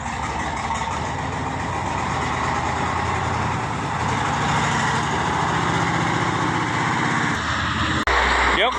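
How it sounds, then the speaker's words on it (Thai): A large crane truck engine rumbles steadily and loudly up close at a pole-recovery site after a pickup crashed into a high-voltage power pole, with a sharp change in tone near the end. "รถเคนขนาดใหญ่ครับผมนี่"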